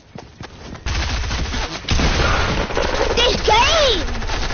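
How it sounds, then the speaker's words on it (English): Rapid gunfire from a Fortnite match crackles in dense bursts under excited, overlapping voices and game effects, with a brief rising tone near the end. "He shot through the goddamn wall."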